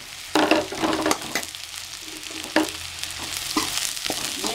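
Beans and peas sautéing in a pan for aval kichidi: a steady soft sizzle broken by several sharp scraping stirs of the spoon, close and alone.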